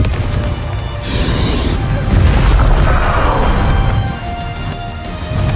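A Confringo blasting spell from Hogwarts Legacy detonates with a loud, heavy boom that swells and rolls for a couple of seconds before tailing off, with a voice heard faintly among the game sounds.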